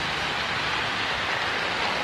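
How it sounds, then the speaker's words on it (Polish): Rain falls in a steady, dense hiss that stays at the same loudness throughout, close and alone with no voices. "Spadł deszcz,"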